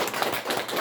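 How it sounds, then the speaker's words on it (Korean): A church congregation claps to welcome a speaker, in a brief, dense burst of hand claps close by. "우리 박수로 환영하겠습니다"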